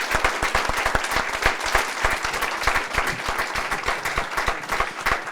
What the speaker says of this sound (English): So I think a round of applause